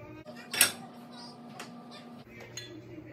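A large metal pan is handled in a home kitchen, giving one sharp bright clang followed by quieter knocks and clinks, with a faint background hum.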